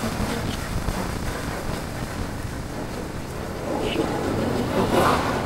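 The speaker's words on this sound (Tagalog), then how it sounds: "Lakas pa rin ng hangin lakas pa rin ng hangin." Strong wind and rain in the wake of Super Typhoon Uwan make a steady, noisy roar that buffets the microphone, swelling slightly toward the end.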